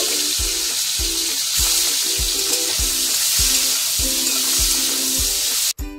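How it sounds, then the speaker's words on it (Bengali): Prawns frying in hot oil give a loud, steady sizzle throughout, with a series of low thuds and clinks of stirring spaced through it, ending in a brief clatter. "প্রথমে চিংড়ি মাছটা ভেজে নেব।"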